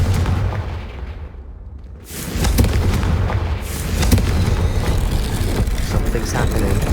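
A Confringo blasting spell goes off in the Hogwarts Legacy video game with a loud boom after a brief lull. Crackling and rumbling game noise follows, and a faint voice may be present.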